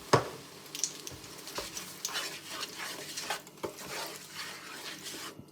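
A spoon stirs liver, bacon and onions in a frying pan after a teaspoon of pepper goes in, giving soft scraping and light sizzling with scattered utensil clicks, close and fairly quiet, with no talking.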